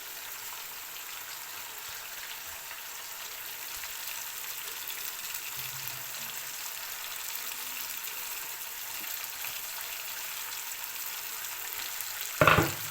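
Khyber Shinwari chicken karahi fries in a pan with julienned ginger and green coriander added, giving a soft, steady sizzle throughout that ends in a brief, sharp clatter.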